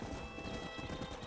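Horse hooves clip-clop at a steady trot in the Red Dead Redemption video game, a rhythmic stream of soft thuds set against a dense outdoor ambience.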